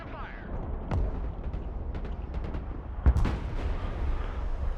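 MLRS rocket artillery fires in a Marines video game: several sharp launch bangs and booms with a couple of heavier blasts, set against a constant rumbling battlefield bed with game voices in the background.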